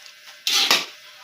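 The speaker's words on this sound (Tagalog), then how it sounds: "Nahalo na natin ang ating pansit puti." White pansit noodles stirred in a pan, giving two short scraping, clattering bursts of utensil against metal about a quarter second apart, close and fairly loud, with no talk.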